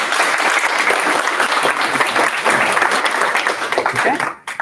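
Applause for a speaker fills a symposium hall, dense steady clapping from a sizeable audience at close range that tapers off abruptly at the very end.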